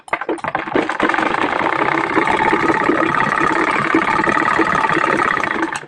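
A sewing machine stitches a handbag in one long, even, rapid run of mechanical whirring and clatter. It is close and loud, with a short start-up at the beginning and no talk.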